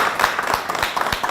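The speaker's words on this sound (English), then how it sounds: "if we could just say thank you with a round of applause to the people in the community that reached out to us" Members of an audience at a North Andover grant presentation give a short round of applause, brisk clapping with a few distinct sharp claps standing out, fairly close and without talk.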